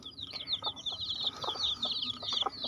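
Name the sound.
Rhode Island Red hen clucking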